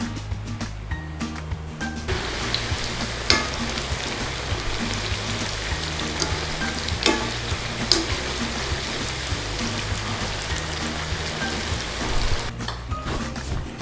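Cauliflower pakoras frying in hot oil in a fryer, a steady dense crackle and sizzle that runs throughout with occasional louder pops, close and fairly loud.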